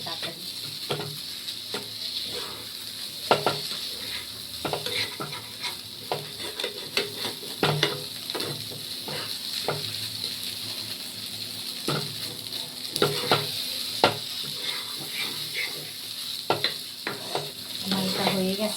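Food stirred and frying in a nonstick wok, with steady close sizzling and repeated scraping strokes of a spatula against the pan throughout, faint talk in the background.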